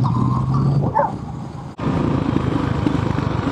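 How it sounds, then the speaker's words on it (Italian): A pack of wild dogs on a Sardinian road barks at a passing motorcycle, with sharp yelps around the one-second mark over engine drone, then a sudden dip before the motor noise resumes steadily. "Attenzione, cani selvatici."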